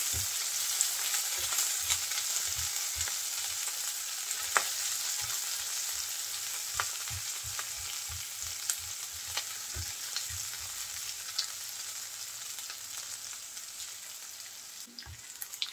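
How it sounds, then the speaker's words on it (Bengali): Sliced onion with a bay leaf and green chillies frying in oil, a continuous close sizzle broken by regular stirring knocks and scrapes of a utensil against the pan. "পেঁয়াজটা একটু ভেজে নেব।"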